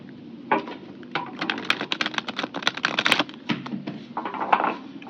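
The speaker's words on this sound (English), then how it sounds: "I'm going to shuffle a few times and pull 3 cards for each week" Brisk riffling and clicking of a new deck of tarot cards being shuffled repeatedly, crisp close-up snaps in uneven bursts over a low background hum, with no talking.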